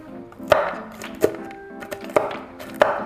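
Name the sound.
chopping roasted butternut squash with a knife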